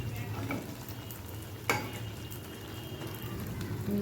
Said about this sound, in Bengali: এই যে মালপোয়াগুলো আমি ফ্রাই করে নিচ্ছি